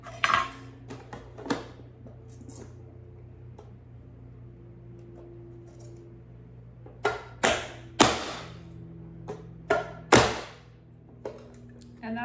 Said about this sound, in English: That's as much as I have to do to chop an onion.